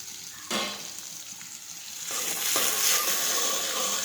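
Chopped tomato and grated ginger sauté in hot oil for urad dal, a bright hissing sizzle that swells louder partway through as the pan is stirred, with no voices.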